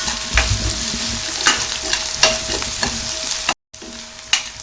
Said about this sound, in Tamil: பச்சை மிளகாய் பொடியா கட் பண்ணி வச்சிருக்கிறேன், இஞ்சி, இதெல்லாம் சேர்த்து நல்லா வதக்கிடலாம்